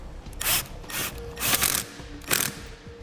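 A ratchet tightens the Phillips screw on a battery terminal of a 2006 Yamaha Kodiak ATV, giving four short bursts of crisp clicking close by, with pauses between strokes.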